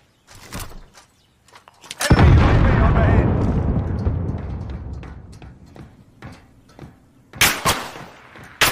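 A planted explosive charge detonates in a Call of Duty match, a loud close boom with a long rumbling decay, preceded and followed by scattered gunshots and short bursts of game noise.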